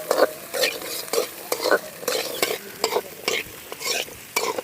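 Onions and crushed garlic fry in sesame oil while being stirred, a close steady sizzle broken by repeated scraping strokes of a utensil against the pan.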